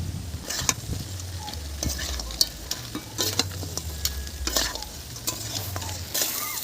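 A ground spice paste with salt and chili powder fries in oil for a Bengali crab curry, a continuous close sizzle with repeated scraping and clinking strokes of a spatula stirring in the pan, no voices.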